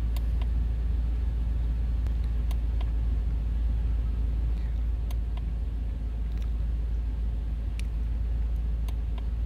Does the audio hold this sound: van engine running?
yes